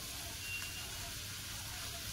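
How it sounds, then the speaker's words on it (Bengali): Chow mein frying in a pan over very low heat, salted and turned with a spatula: a faint, steady sizzling hiss that runs unbroken throughout. "নুন দেওয়ার পরে খুন্তি দিয়ে এইভাবে একটু নাড়াচাড়া করে দেবো, চাউমিনটা ভাজতে থাকবো"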